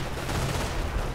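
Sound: artillery firing in the video game Company of Heroes

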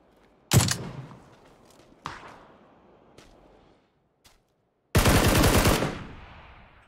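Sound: gunfire from the video game PUBG

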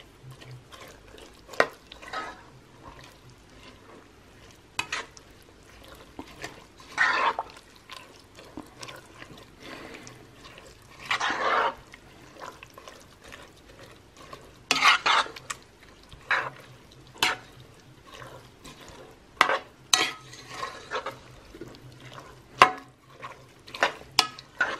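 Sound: stirring cabbage, tomato paste and vegetables in pan

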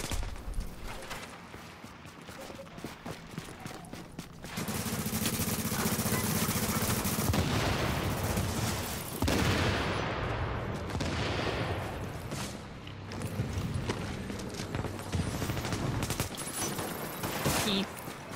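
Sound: gunfire in a video game

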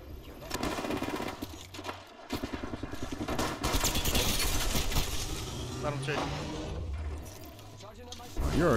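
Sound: gunfire in the video game Apex Legends

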